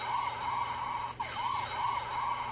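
A wailing ambulance siren sound effect sweeps up and down steadily at close range, loud and continuous with no voices.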